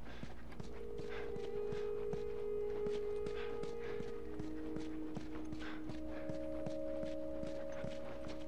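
Horse walking in the video game The Last of Us: evenly spaced hoof clops at a slow, regular pace, close by, over a constant low background with sustained tones beneath.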